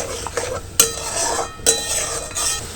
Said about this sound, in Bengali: মশলাটাকে ভালো করে কষাচ্ছি, একটু তেল ছাড়া পর্যন্ত ভালো করে একটু কষিয়ে নেব।